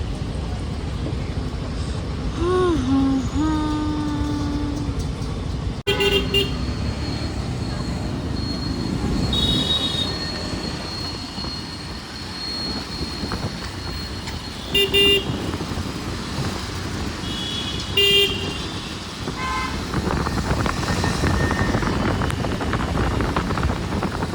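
Road traffic flows past in an Indian city as several car horns honk in short, scattered bursts over a constant rumble of engines, close and fairly loud, with faint voices now and then.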